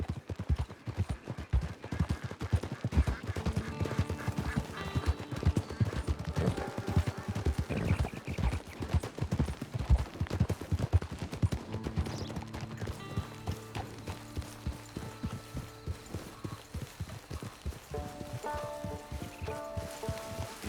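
Hooves clip-clop rhythmically as a horse trots in Red Dead Online, close and distinct over a soft musical score that swells and fades.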